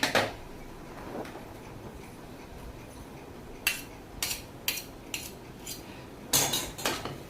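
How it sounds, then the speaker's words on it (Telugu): Metal spoon clinks and scrapes in a pan as fried onions are stirred into spinach paste, sounding as a few sharp close knocks late on after a quiet start. "మనం వేయించుకున్న ఆనియన్స్ని ఇప్పుడు కలిపేస్తున్నానండి"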